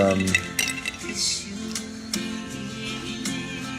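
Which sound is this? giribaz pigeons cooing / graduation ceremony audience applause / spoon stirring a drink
spoon stirring a drink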